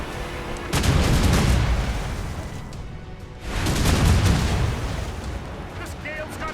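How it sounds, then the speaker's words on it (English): Ship cannons firing in naval combat in the Assassin's Creed Rogue video game, two loud, deep booming volleys with rumbling decay, heard close over storm-like ambient noise and faint voices. "Cannon ready!"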